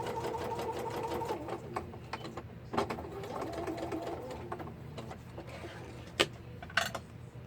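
A domestic sewing machine runs steadily through fabric, a continuous quiet mechanical whir with a rhythmic needle clatter, broken by a few brief pauses and small clicks.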